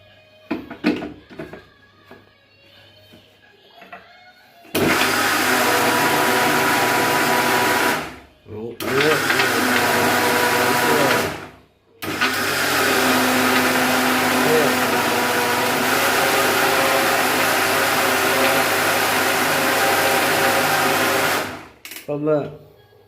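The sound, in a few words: mixer grinder grinding flour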